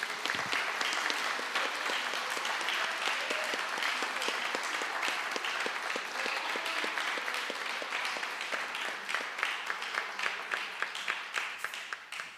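A church congregation applauds at a gratitude service, with steady, sustained clapping from many hands and distinct individual claps growing sharper toward the end.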